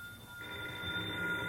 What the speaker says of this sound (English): Jane, the telephone's ringing. Aren't you going to answer it?